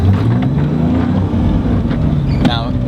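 A car engine revs hard as the vehicle accelerates with the wheels turned fully to one side, a loud, close, rising growl lasting about three seconds.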